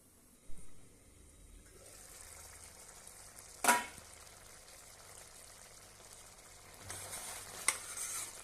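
Chickpea and potato curry simmering under a lid in a pan, giving a faint, steady low sizzle and bubbling, broken by one sharp clatter midway and a louder hissing burst near the end.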